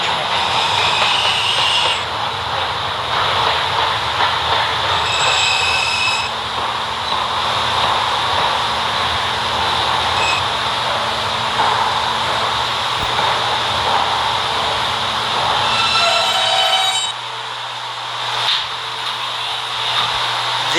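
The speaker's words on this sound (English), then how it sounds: "This is a West Baton bound B train." A westbound subway B train rolls along the tracks with a steady, loud rumble and hiss throughout, easing into quieter running near the end.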